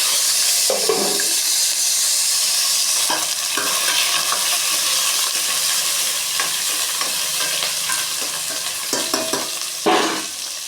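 Small shallots sautéing in oil in a pot for a mutton curry, a constant loud sizzle with repeated scraping stirs and a heavier clatter near the end.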